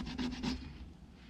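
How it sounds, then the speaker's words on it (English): Sandpaper rubbed back and forth on a small wooden piece for a dollhouse boat, three quick close rasping strokes in the first half second, then a faint quiet room. "you're going to have to take the sandpaper and you're going to have to sand it like a roof of a house"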